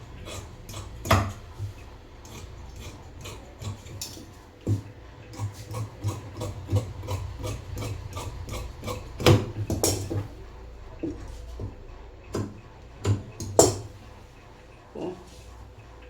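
Scissors cut through fabric on a tailoring table in a series of sharp, close snips, some quick and clustered, others spaced apart, over a faint background hum.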